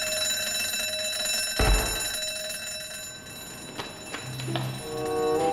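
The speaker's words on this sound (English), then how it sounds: "Who set off the alarm?" A museum security alarm rings continuously as a shrill electronic tone, with a dull thump and scattered bangs and shifting tones partway through, and no voices.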